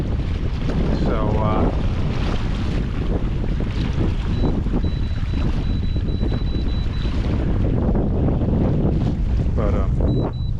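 Strong wind buffets the microphone on a small fishing boat in rough water, a loud continuous roar with waves and hull slaps underneath, and faint voices now and then.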